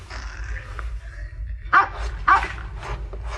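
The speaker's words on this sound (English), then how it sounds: "It sounded like a dog barking." A dog barks twice, sharp and fairly close, with the barks spaced about half a second apart over a low steady background hum and faint indistinct sounds beforehand.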